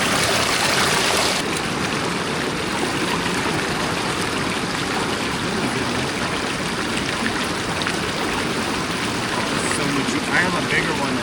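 Fast-moving water rushes continuously through a gold sluice at a flood gold prospecting spot, a dense, steady, close roar of flowing water with no pause.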